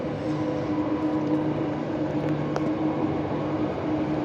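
A special train runs at Old Midland Station on its last day of operations, giving off a low, steady rumble and hum at moderate distance with no voices.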